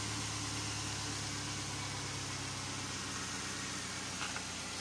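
A Jaguar XJ8 engine idling, a steady, even hum with a hissy noise floor and no change in pitch over a few seconds.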